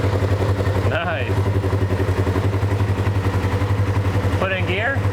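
A wrecked 2021 Polaris RZR 1000 engine runs at a steady, loud idle with an even throbbing rhythm, while voices talk briefly over it at two moments.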